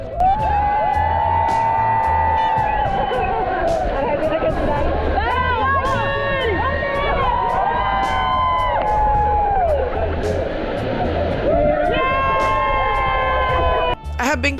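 A crowd whoops and cheers for cliff jumpers leaping into the pool at Gozalandia waterfall in Puerto Rico. Loud, continuous shouting and voices carry across the whole stretch, with a sudden dip just before the end.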